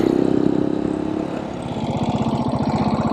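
Janus Halcyon 450 motorcycle engine under way, a steady mid-pitched thrum that dips briefly as the rider shifts gears, then picks back up with a rhythmic, pulsing exhaust beat, close and continuous.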